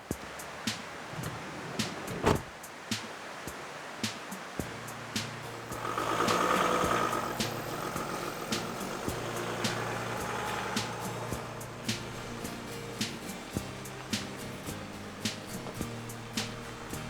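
Van cruising on the Sea to Sky Highway in British Columbia, a steady low road rumble from inside the cabin, a swell of passing traffic or wind midway, and regular faint clicks.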